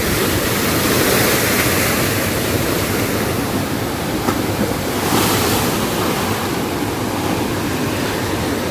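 Waves breaking continuously at Kappil Beach, where a lake flows into the Arabian Sea, a steady loud roar of surf mixed with wind rush across the microphone.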